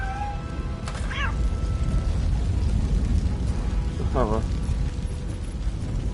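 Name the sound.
fire blocking the way in RoboCop Rogue City video game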